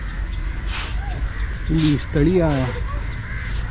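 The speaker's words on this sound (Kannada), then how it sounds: "ಜೊತೆ ಕಾಗೆಗಳು ಬಂದಿದ್ದಾವೆ ನೋಡಿ" Crows cawing in a seaside park near a beach in Mangaluru, a couple of harsh nearby caws in quick succession, with a brief spoken word and faint background ambience.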